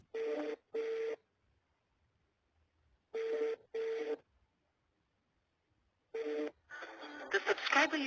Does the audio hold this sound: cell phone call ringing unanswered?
yes